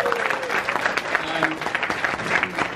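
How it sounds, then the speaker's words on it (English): Audience at a YouTube creator meetup in Kuala Lumpur clapping in a steady, lively burst with voices mixed in, loud and close throughout. "So a big round of applause for yourself"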